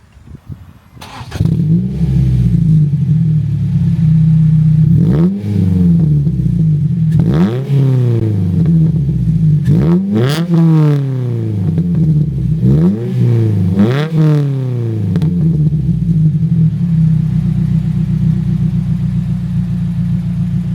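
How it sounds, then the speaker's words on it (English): A Ford Fiesta XR4 with a 2-liter inline-four starts up close by, settles into a steady idle, then is revved several times in rising and falling sweeps before returning to idle. "I'll give you guys a start and a couple revs"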